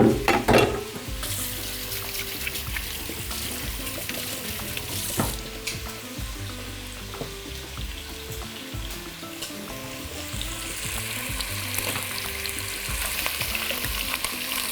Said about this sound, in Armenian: մսակտորները հարկավոր է տապակել